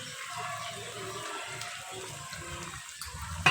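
Jackfruit curry simmers with a soft, continuous bubbling hiss that stays even and close throughout, with no voices.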